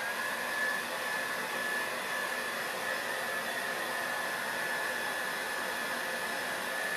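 Hair dryer blowing on fresh paint during a distressed harlequin finish, a steady unbroken whooshing drone with a faint high whine, running alone at moderate level.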